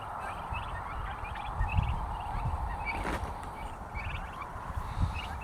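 Turkeys in a roosting shelter built from scrap materials, with repeated gobbling and clucking calls at moderate distance over a steady outdoor background hum.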